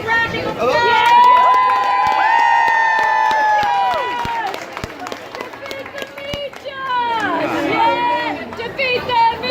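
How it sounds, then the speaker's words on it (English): Crowd at a restaurant eating-challenge event in Amarillo, Texas, cheering, whooping and shouting loudly and continuously, with scattered claps and chatter throughout. "Give him a round of applause."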